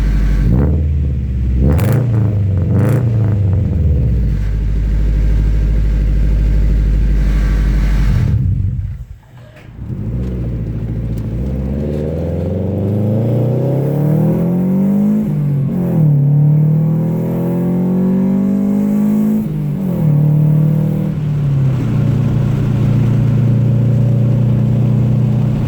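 A Honda B18B engine fitted with a UEL header revs repeatedly on an Integra, producing a rumbling, uneven boxer-like burble that climbs and falls through several throttle blips, with a brief drop near the middle before revving resumes, close and loud.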